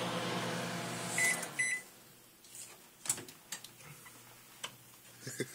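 A microwave oven runs with a low steady hum for the first second or so, followed by a couple of short electronic beeps. Scattered clicks, ticks and soft knocks come after, with no talking.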